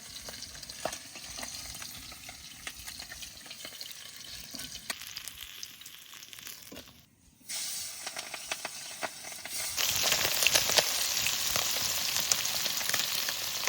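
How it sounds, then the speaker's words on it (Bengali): Fresh river fish, gulsha and tengra, fry lightly in oil in a pan with a steady close sizzle and occasional stirring scrapes, briefly dipping midway and then growing louder and hissier toward the end. "তেল ঝাল করবো, ওই জন্য বেশি কড়া ভাবে দেবো না, হালকা করে ভেজে নেবো।"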